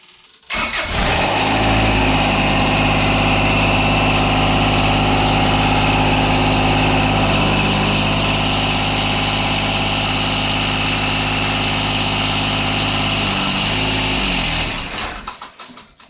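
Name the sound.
Kubota BX tractor engine running while raising front loader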